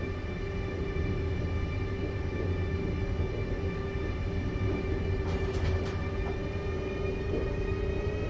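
An ÖBB 1016 electric locomotive pulling away in a Train Simulator run on the Drautalbahn in Austria gives a steady droning hum with a sustained pitched whine, loud and unbroken, with a brief rattle partway through and no talking.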